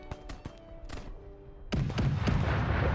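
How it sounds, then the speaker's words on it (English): Artillery fire in The Infanterist, a Great War browser strategy game, arrives as a series of sharp distant booms that build into a dense, rumbling barrage of overlapping blasts. "They are using their artillery as well."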